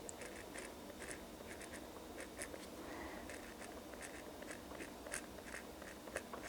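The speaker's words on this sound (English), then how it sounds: "I'm just gonna write to do." A pen writing on the paper of an Erin Condren planner, faint repeated scratchy strokes in short clusters against quiet room background, with no talking.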